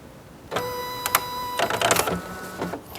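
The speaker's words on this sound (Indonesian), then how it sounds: "Kadang-kadang ada yang tidak masuk ke printer." An inkjet-style printer for a weighing-scale CPU setup pulls in a sheet of paper and prints, heard as close whirring motor tones, clicks, and stepping mechanical chatter that start after a quiet half second.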